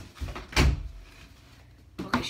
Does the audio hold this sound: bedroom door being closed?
yes